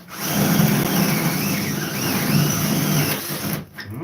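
A power drill bores holes into the wood of a shed, with a loud, sustained whine whose pitch wavers under load before it stops abruptly with clattering.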